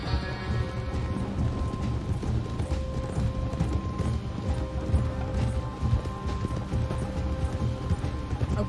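Horses ridden through the world of the Red Dead Redemption 2 video game, hooves clip-clopping in a steady continuous rhythm amid ambient game sound with tonal music, occasional creaks and faint tack noise.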